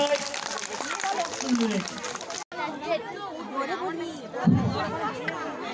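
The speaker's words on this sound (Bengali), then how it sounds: "এত স্টুডেন্টদের মা বাবা এত গ্যাঞ্জাম করছে" Students' parents at a school event fill the space with loud overlapping chatter and commotion, a dense crowd babble that runs throughout.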